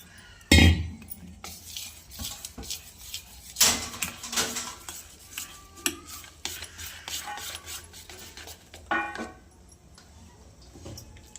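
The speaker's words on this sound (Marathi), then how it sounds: "थोडा ओवा, आपण आता मिक्स करून घेणार।" Ajwain being mixed into gram flour batter in a bowl, irregular scraping, clinks and rubbing of utensil against vessel with one sharp knock near the start, close and moderately loud.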